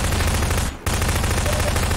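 Sustained rapid gunfire in Half-Life 2, loud and continuous, with a brief pause near the middle before the shooting resumes.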